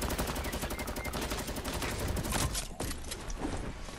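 Rapid automatic gunfire rattles continuously in a Fortnite Battle Royale match, a dense fusillade of shots at moderate loudness that breaks off abruptly near the end before scattered shots resume.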